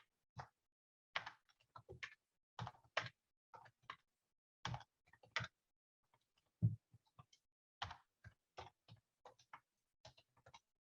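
Keys clacking on a computer keyboard in uneven bursts of quick taps with short pauses, fairly close and faint, with no talking.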